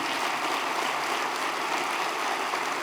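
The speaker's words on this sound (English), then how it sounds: "let's give them another round of applause" A convention crowd gives a round of applause, a steady wash of many clapping hands heard at a distance, even and sustained with no voices over it.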